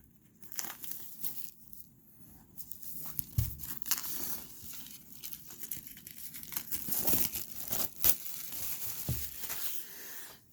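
Plastic-wrapped board game packaging for Horrified: American Monsters is sliced and ripped open, giving a run of crinkling, tearing and crackling bursts, close and fairly soft, with no talking.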